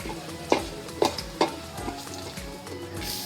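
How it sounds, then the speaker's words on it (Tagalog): Garlic sautéing in hot oil for a pork mince and potato dish, a steady sizzle broken by several sharp spatula scrapes against the pan in a quick uneven rhythm, close up with no talk. "Kapag mainit na ang mantika, igisa na ang bawang."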